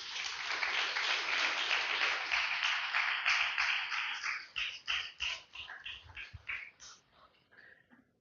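A church congregation bursts into loud, dense applause that holds for several seconds, then thins into separate, uneven claps that fade toward the end.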